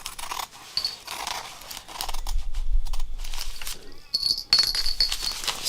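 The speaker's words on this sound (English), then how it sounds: "So what I'm going to do real quickly here is I'm going to cut these apart." Scissors make several crisp snipping and slicing sounds as they cut through fabric fused to paper-backed fusible web, with rustling in between and a person talking at times.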